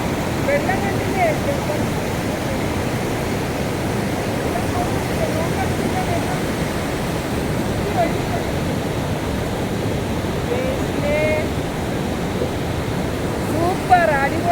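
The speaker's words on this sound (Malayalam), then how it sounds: "എന്തൊരു ഭയങ്കര സ്പീഡിലാണ് വെള്ളം കുത്തി ഒഴുകിക്കൊണ്ടിരിക്കുകയാണ്" Fast-rushing river water at Meenpidipara makes a steady, loud broadband roar close by, unbroken for the whole stretch and with no clear pauses.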